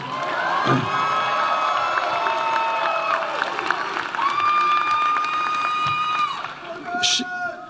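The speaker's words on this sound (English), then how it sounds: "You feel free to applaud for Morgan." Graduation ceremony audience applause mixed with cheers and whoops from a crowd, steady clapping under prominent ringing tones and occasional shouts, continuing for several seconds.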